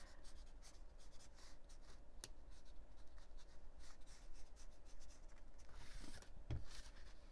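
A pen or pencil scribbles quickly across a black-and-white mixed media art page, soft continuous scratchy strokes with small taps, close and quiet throughout.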